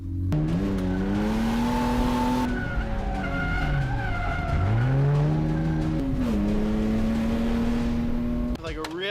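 A BMW M5 drifts with a loud engine rising and falling through revs while its tires squeal and skid continuously. A voice talks over the noise.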